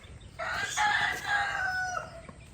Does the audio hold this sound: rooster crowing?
yes